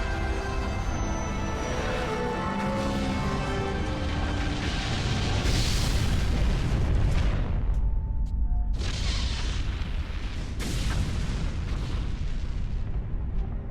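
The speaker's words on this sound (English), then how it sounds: "Turns out the Normandy does have a badass gun" Heavy ship-mounted gun on the Normandy in Mass Effect firing with booming explosions, a dense continuous roar of blasts and rumbling, loud and close, with a sharp break midway before resuming.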